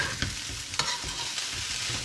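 Chicken fried rice is stirred and broken apart in a hot pan, giving a sizzling bed of frying with a few sharp scraping clacks from the utensil, close and without voices.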